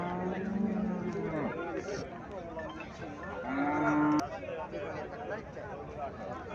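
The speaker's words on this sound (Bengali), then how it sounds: "এখানে একটা গাভী দেখা যাচ্ছে" A Friesian dairy cow at a cattle sale gives two drawn-out, fairly close moos, one low and one rising, with people talking throughout.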